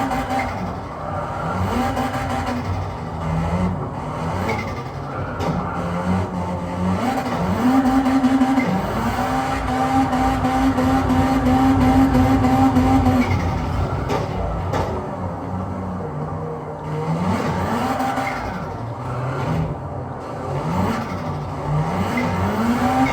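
Race car in Gran Turismo 7 spinning its wheels on slick tyres, engine note rising and falling in repeated revving sweeps with squealing tyres throughout, loud and continuous with no voices.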